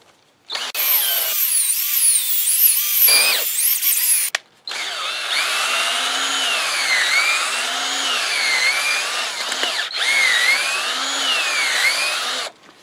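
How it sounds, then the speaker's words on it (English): Cordless drill fitted with a paint mixer paddle stirs citric acid descaling powder on low speed, a steady whirring drone running continuously with a brief stop near the middle before starting again, with no talking. "So this is like a paint mixer in my cordless drill,"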